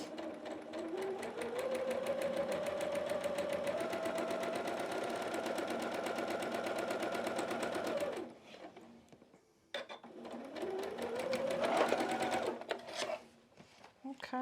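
A sewing machine runs in long continuous bursts while stitching quilt pieces for a snowman quilt block, its motor whine rising in pitch as it speeds up, pausing once briefly before starting again; a voice speaks at times beneath it.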